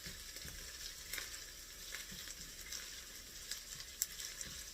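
Three garlic cloves frying in a pan for a lemon turkey Greek soup, a soft continuous sizzle with occasional small pops and a faint stir, no talking.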